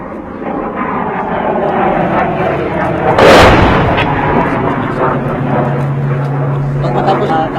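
Mortar fired during urban combat against ISIS in Marawi: one heavy, booming launch mid-clip rises above a steady rumble of battle noise, with voices in the background.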